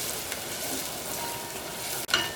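Onions sautéing in a pan for Kerala-style veg rava upma, a soft steady sizzle with a light clink of a utensil near the end, no talking.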